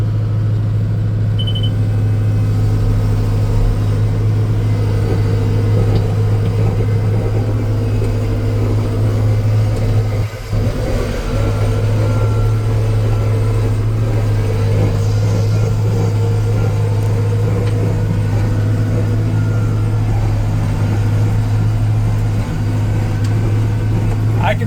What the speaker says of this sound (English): Let me throttle up and we'll hit it.